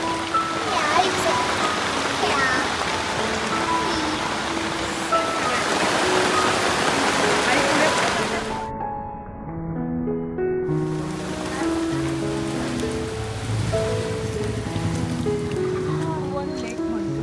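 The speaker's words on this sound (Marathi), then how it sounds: "पाऊस पडतोय" Steady rain hisses across the scene while voices talk, and a melodic tune rises over the downpour in the second half.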